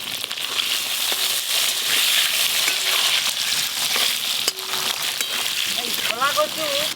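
Cut shola kochu (taro) frying in oil left from frying hilsa, tempered with black cumin, hisses and crackles in a dense steady sizzle with occasional stirring clicks, as someone speaks at the end.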